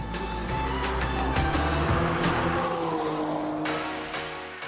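A BMW M3 Touring with 390 kilowatts accelerates hard at an M festival, its engine note rising and dropping through gear changes with sharp bursts, loud and close throughout.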